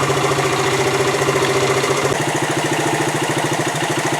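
A Honda TL 125 motorcycle engine, freshly tuned with the carb cleaned and the points and timing set, runs at a steady, even idle. The putter is loud and close, with no voices over it.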